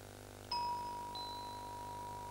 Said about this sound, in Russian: Осталось 30 секунд, предупреждает гонг.